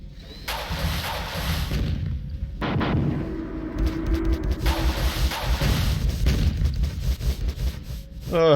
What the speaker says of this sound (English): That's a lot of missiles.